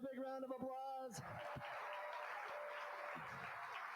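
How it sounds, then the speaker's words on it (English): Guests at a charity auction dinner burst into applause for a winning bidder, a broad, even wash of clapping that follows an auctioneer's voice at the start and continues alone. "Let's give her a big round of applause"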